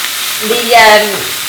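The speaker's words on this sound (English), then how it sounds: "The leeks are going to take about 10 minutes to just fry down to a soft texture" Sliced leeks fry in a pan over low heat, giving a steady, close sizzle that swells briefly as they are stirred, with a faint tonal scrape riding over the crackle.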